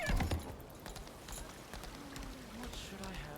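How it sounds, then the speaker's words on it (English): A horse gallops in the video game Lost Ark with quick, light clip-clopping hoofbeats that run steadily throughout, fairly faint, under a soft voice. "This horse makes it kind of fun to run anyways."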